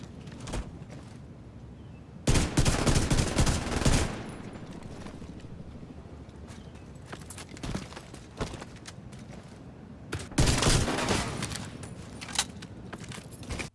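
Ravenous exotic rifle gunfire in The Division 2 comes in two loud, rapid bursts of automatic shots separated by quieter stretches, with scattered single shots and impacts between them.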